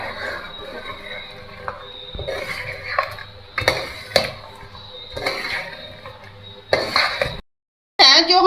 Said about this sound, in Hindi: ये 1 कप दही है, इसको हम डाल देंगे। और डालने के बाद इसको मिक्स करेंगे।